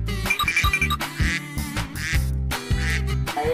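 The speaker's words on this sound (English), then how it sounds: "Duck." An animated duck quacks in a rapid run of loud nasal squawks, with brief gaps between them and a cartoon sound bed underneath.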